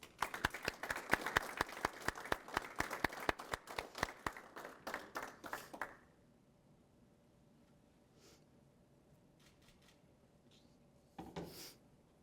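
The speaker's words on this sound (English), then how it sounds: "Please join me in a round of applause for their accomplishments." Audience applause rings out at a Senior Leader Course graduation ceremony, rapid, crisp clapping for about six seconds that stops abruptly, leaving a quiet hall with a few faint knocks.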